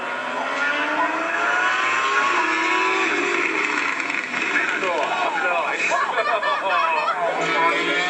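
A .21 two-stroke nitro engine fitted with an Aprilia pipe revs hard and steadily, its pitch rising and sweeping up and down, loud and close with a voice talking over it.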